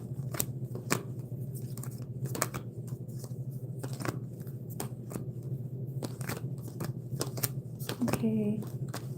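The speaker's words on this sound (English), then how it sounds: "I shuffled them the wrong way." Tarot cards being shuffled by hand, a run of sharp riffling clicks and snaps scattered across the span, close and fairly crisp over a steady low hum, with a brief voiced sound near the end.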